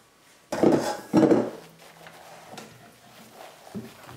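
Whipped egg whites, very stiff, are dropped into broccoli mousse and gently folded in a bowl, giving a couple of soft clunks of utensil against the bowl followed by quiet scraping and light taps, close and fairly faint.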